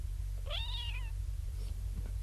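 A person imitates a cat's meow: one clear, rising-then-falling mewing call, close and moderately loud over a steady low hum, with quiet afterward.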